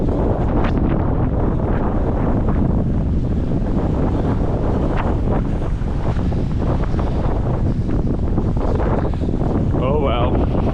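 Gale-force wind buffets the microphone outdoors on a long run, a loud, constant roar of low rumble and gusty thumps filling the whole stretch, with a brief voice near the end.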